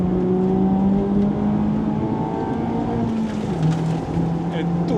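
Mazda Roadster ND5RE pulling through the gears on Asan Circuit, a steady loud engine drone with rising and dropping tones and a brief shift dip, heard from inside the car throughout.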